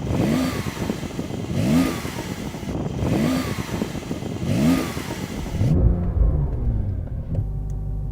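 A sports car engine, either a Dodge Challenger Demon or a Porsche 911 Turbo S, revs repeatedly in several rising bursts about a second apart, loud and near. It then drops to a lower, steadier idle drone.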